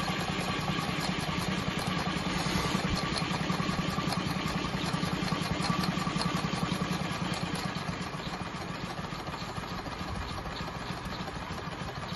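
A Maxitrak Ruby live steam model locomotive runs on a rolling road, giving a steady close mechanical chuffing and whirring drone with dense rapid beats that eases slightly toward the end, and no talk.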